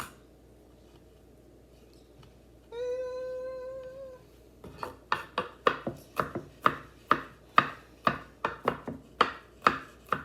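A knife chops garlic on a board in a home kitchen, a quick run of sharp, evenly spaced taps close by, preceded by a cat's drawn-out meow.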